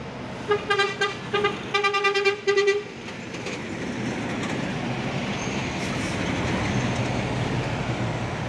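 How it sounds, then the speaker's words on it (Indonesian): A Hino truck climbs a hill on a hot afternoon, opening with a loud series of rhythmic horn toots before settling into a steady, rumbling engine drone that fills the rest of the stretch. "Pemain Hino melewati tanjakan Bukit Kodok di siang hari."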